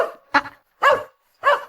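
A dog barks three times in a loud, close, evenly spaced sequence, each bark short and sharp with silence in between.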